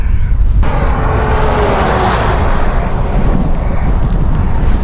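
Loud, steady wind buffets the microphone while cycling into a headwind along the Estonian coast, with a dense rushing hiss of rain running continuously underneath and no talking.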